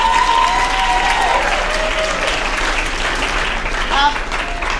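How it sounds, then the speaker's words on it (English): Students at a school writers week event applaud two teachers, a loud, continuous wash of crowd clapping with cheering and whistles over it. "please give them a huge round of applause"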